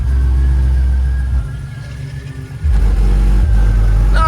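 Car engine revving at a Monte Carlo club spring meet, a deep steady rumble that dips briefly, then swells back to a heavy, loud drone, close by, with no talk over it.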